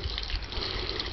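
Water trickles through copper pipe into the hub of a rotating water wheel sculpture with a stainless steel stem, a faint, steady liquid rush.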